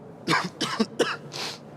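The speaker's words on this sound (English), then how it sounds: "I didn't hear you, you coughed." Three quick coughs from one person close up, followed by a softer breathy exhale, with no talk.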